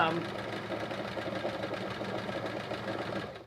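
A sewing machine rattles steadily during free motion quilting, a continuous close mechanical chatter with a loose, rattly vibration throughout, with no pauses.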